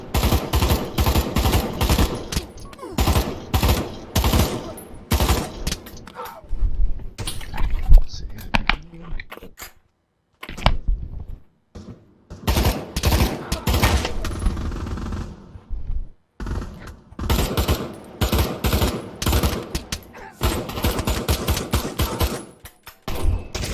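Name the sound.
gunfire in Pavlov VR video game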